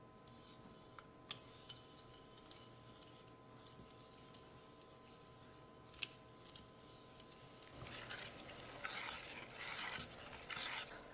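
Green pandan tapioca batter made with coconut mixture, pandan extract and food coloring is stirred in a bowl, a faint soft swishing and scraping that grows busier and slightly louder toward the end.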